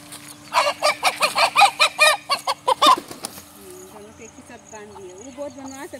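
Chickens cluck and a rooster calls at a rural home; a burst of loud, rhythmic clucking comes first, then fainter squawks and bird calls over background voices.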